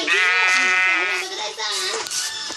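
Sheep in the Minecraft video game bleat in a loud, wavering, drawn-out call that runs almost continuously, close up and nearly alone.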